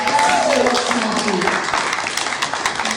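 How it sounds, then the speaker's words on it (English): A crowd claps at a book launch event, a dense burst that starts loud and thins slightly, with a voice and cheers over the first moments. "Can we just give a round of applause?"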